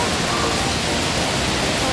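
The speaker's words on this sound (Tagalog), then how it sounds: "Umuulan kasi." Rain falls near Mandai Waterfall, blending with the rushing water into a loud, unbroken wash of broadband noise that sounds close and steady throughout.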